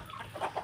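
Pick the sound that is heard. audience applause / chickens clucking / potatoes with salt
chickens clucking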